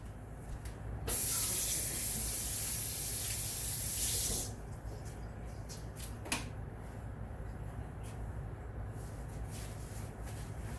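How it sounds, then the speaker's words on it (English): A kitchen water tap runs for about three seconds as hands are rinsed clean of mashed salmon, a loud close gush that cuts off abruptly, leaving faint room noise and a small clunk. "So let me rinse my hands."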